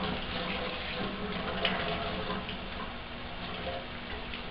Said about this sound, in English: I take off the tube that the alcohol comes down through and run hot water through it